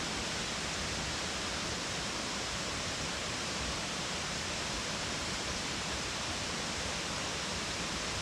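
Frolictown Falls in Panthertown Valley pours into a pool with a steady, even rush of water. The soft roar carries on alone, without voices.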